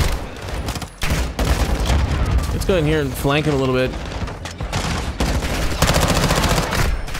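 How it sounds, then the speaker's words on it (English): Heavy sustained automatic gunfire in the video game Call of Duty Modern Warfare II rattles throughout in dense bursts, loud and close, while someone talks over it and a brief tonal warble cuts through midway. "Serious gunfire, man."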